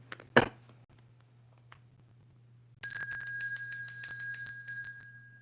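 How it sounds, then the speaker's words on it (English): A small handbell rung during a tarot reading in a quiet room, a bright, rapid run of clear metallic rings after a single earlier knock. "Raphael asked me to ring the bell"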